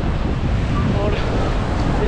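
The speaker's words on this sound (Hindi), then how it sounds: "हवाएं बहुत तेज चल रही है यहाँ पे।" Strong wind blows at the Badrinath temple in the Uttarakhand mountains, a steady, dense roar buffeting the microphone throughout with no break.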